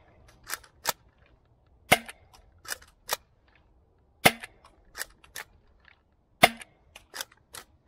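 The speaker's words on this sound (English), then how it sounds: "It shoots Elite darts." A DZP Mk 2 toy dart blaster fires Elite darts, with sharp, loud pops repeating in uneven bursts of two or three shots, separated by short gaps of quiet.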